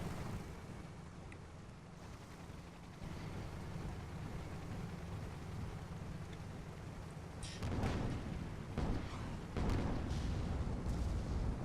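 A Hwacha barrage fired from an airship in a video game rumbles as a dense, roaring wash of blasts, swelling into louder, ragged bursts toward the end over a constant low wind-like drone.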